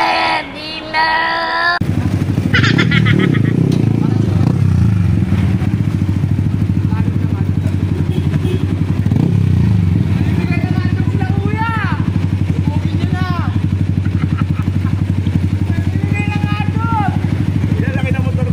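A big-bike motorcycle engine bursts in loud and close after a brief quiet start, then runs with a steady, throbbing rumble throughout, with excited voices calling out over it.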